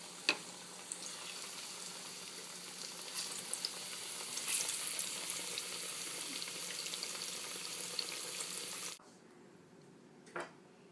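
Sliced plantains frying in a hot pan for a Cuban arroz con pollo meal, a dense crackling sizzle heard close with scattered pops, cutting off abruptly near the end before a brief clatter.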